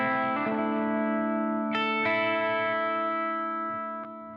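Strandberg electric guitar on a clean, high-headroom tone with delay, strummed chords and single notes ringing out with echoing repeats, close and sustained, no voices.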